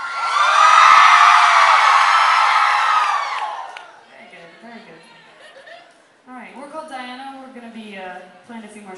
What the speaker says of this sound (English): do you want to scream a little louder?